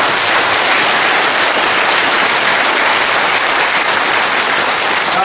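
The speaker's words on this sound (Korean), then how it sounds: "박수 한번 보내주시겠습니다" A lecture hall audience claps continuously for a retired navy commander, a loud, dense and unbroken roar of many hands lasting several seconds without speech.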